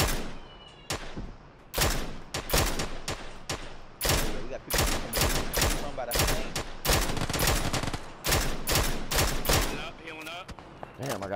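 Gunfire in the battle royale video game PUBG: repeated sharp, loud bursts of automatic shots in quick clusters, with brief gaps between volleys and a voice talking faintly underneath.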